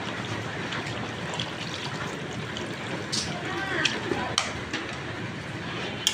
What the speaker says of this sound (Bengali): এখন আমি এখানে আরেকটু ঝোল দিয়ে দিব।